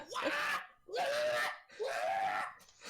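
A voice imitates screaming from a tavern's back room: three long, loud, strained screams in a row with brief gaps between them, close to the microphone.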